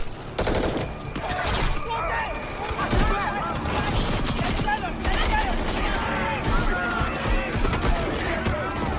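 Dense bursts of rapid gunfire crackle through a film battle scene, loud and continuous for several seconds, with overlapping shots and impacts layered under voices.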